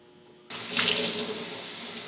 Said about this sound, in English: Now I'll continue the rinse out.